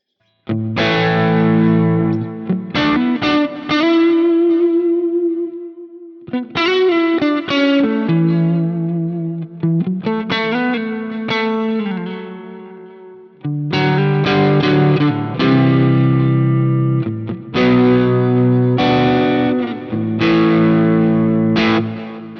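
A loud electric guitar through a Quad Cortex with a crunchy, distorted tone and shimmering vintage-mode chorus, playing sustained chords and riffs for over twenty seconds.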